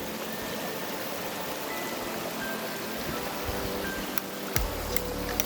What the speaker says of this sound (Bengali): খুব সুন্দরভাবে ঝর্ণার জল পড়ছে